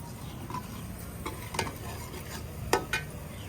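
Spices roasting in a hot pan, stirred with a utensil: a soft, steady sizzle under a few sharp scraping clinks of metal against the pan, close and fairly quiet, with no talking.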